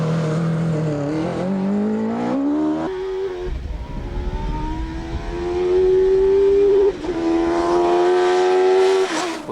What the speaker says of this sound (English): this is Darren's front-engined R1 Mini. Let's see what it can manage.